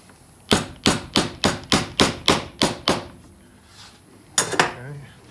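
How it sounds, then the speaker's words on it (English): Nine sharp, evenly spaced hammer strikes drive tacks into the frame of an 1860s antique chair during upholstery spring tying, followed after a pause by two more close, loud taps. "And then we need to hammer that in."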